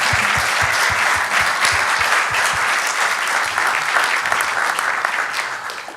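Loud, close applause at the end of an architecture symposium, a thick burst of many hands clapping with a few distinct low thumps early on, tapering slightly near the end.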